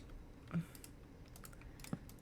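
A computer mouse clicks during Minecraft play, a few quiet, sparse taps and clicks scattered over a faint background with no speech.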